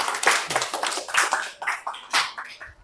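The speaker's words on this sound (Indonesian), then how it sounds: "Silakan beri aplaus kepada Tegar" A small classroom group claps for a student, giving a short, uneven patter of scattered hand claps at moderate volume.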